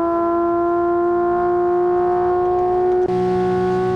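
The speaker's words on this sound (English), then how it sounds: "It sounds like a straight six." Straight-six engine of a 1978 Dome Zero driven in Assetto Corsa, a steady droning hum at nearly constant revs, loud and close, with a brief dip and slight change in pitch near the end as it shifts.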